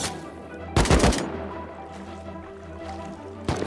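Gunfire in the video game Rust, with a loud close burst of rapid shots followed by a quieter stretch and then a single sharp shot at the end.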